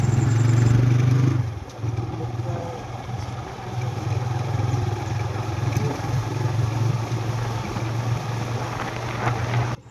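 Motorcycle engine droning steadily while riding along a river bank road, with heavy wind buffeting the microphone throughout.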